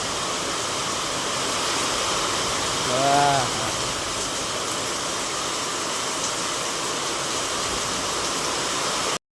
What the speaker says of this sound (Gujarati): બહુ અવાજ અહીં આવતો વરસાદનો